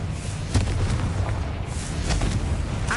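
Confringo fire spell bursting in Hogwarts Legacy on PS5, a dense rumbling boom with a few sharper pops over continuous game noise, loud and close.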